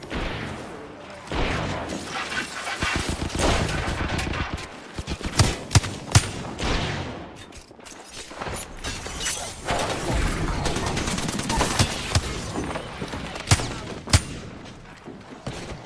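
Rapid gunfire from the video game Apex Legends, dense bursts of shots and sharp cracks firing almost continuously, loud and close, with brief lulls and heavier volleys later on.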